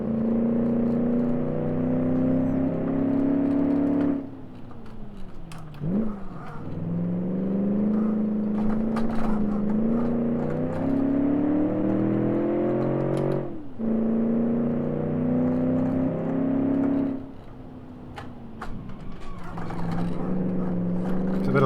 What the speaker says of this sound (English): I'm gonna have to turn the engine volume down a bit so I can talk over it better.